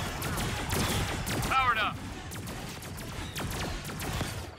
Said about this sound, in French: Salve de tir.